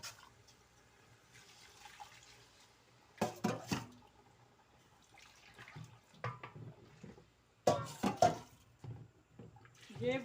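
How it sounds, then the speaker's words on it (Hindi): Water is poured from a pot into chicken korma curry cooking in a home kitchen. The pour is soft and faint under a low background hum, with voices talking in short bursts. "अब मैं इसमें पानी डाल रही हूँ।"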